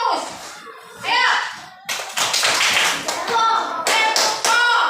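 Children in an Indonesian primary classroom perform a teacher-led rhythmic focus clap. Quick sharp claps repeat in a steady pattern, mixed with young voices chanting along and the teacher talking.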